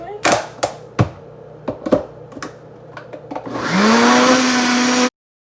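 A blender grinds spinach for green juice, opening with several loud knocking thuds as leaves settle in the jar. A steady high whir then rises, spins up and stops abruptly.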